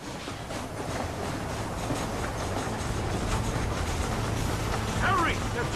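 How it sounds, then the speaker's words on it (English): A train runs in the video game Red Dead Redemption as a steady rumbling, rattling drone with clickety-clack that holds throughout, while voices shout over it. "The train is getting away!"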